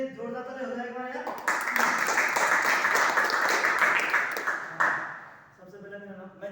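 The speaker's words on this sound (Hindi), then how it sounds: "सर के लिए जोरदार ताली हो जाएगा यार" Audience applause for a speaker at a seminar, a loud burst of many hands clapping that swells between stretches of someone talking, then fades out as he resumes.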